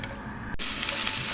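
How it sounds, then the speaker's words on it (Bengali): Dried red chillies and garlic frying in oil for a peanut bhorta, a close, continuous sizzling hiss that swells after a brief cut, with no voices. "শুকনো মরিচ ভেজে নিব আর ভেজে নিব রসুন।"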